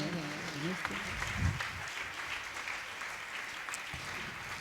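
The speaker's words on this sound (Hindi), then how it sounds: "हम सभी जोरदार तालियों के माध्यम से राहुल भैया का सम्मान कर रहे हैं।" Audience at a religious honour ceremony clapping for Rahul Bhaiya, a steady, moderately distant patter of applause, with a voice briefly heard over it near the start.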